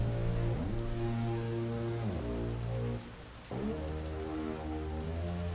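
Steady rain hisses down on a wet Monaco street circuit during a Formula 1 race, with a droning tonal hum that shifts pitch in steps and briefly drops out before returning.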